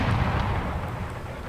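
Mortar fire in Empire Total War, a dense low rumble of artillery booms rolling continuously with no pauses, loud and close throughout.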